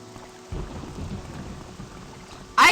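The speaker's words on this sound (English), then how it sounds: "I love that lightning sound effect." Thunder and lightning in the Morrowind video game: a low rumbling roll of thunder over falling rain, then a sudden loud, sharp crack of lightning at the end, with no voices.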